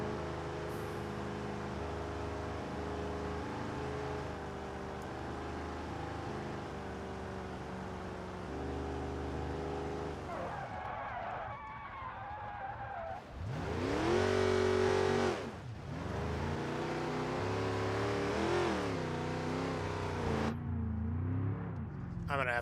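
Dodge Charger in the BeamNG video game driving a desert off-road trail in Johnson Valley, engine droning steadily, then revving hard and surging, loud throughout; someone talks over parts of it.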